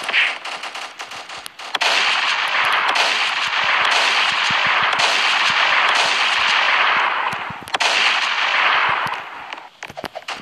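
Continuous gunfire from a Roblox Prison Life round, loud and dense, with rapid shots packed together for most of the stretch and brief gaps near the start and near the end.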